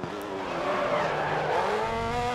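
Race car in the Grid Autosport racing game braking into a corner, a steady engine drone with a rising tire squeal sustained for a couple of seconds, loud and close with no speech.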